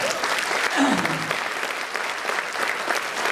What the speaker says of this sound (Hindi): एक बार तालियों से मुझे शुरू कर दिया।